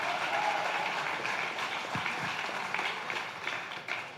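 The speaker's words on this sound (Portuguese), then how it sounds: "pode aplaudir" Applause from a church congregation during a sermon, moderate clapping that gradually thins out, with a few sharper claps and thumps near the end.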